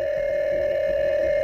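A steady continuous tone rings alone from a phone as a call is placed, holding unbroken at moderate level with faint noise underneath.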